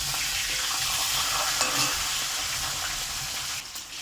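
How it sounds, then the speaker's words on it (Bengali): Steady, dense sizzling of a rohu fish head frying in hot oil with turmeric, with a faint stir partway through and no voices. "রুই মাছের মাথাটা তেলে ভাজবো"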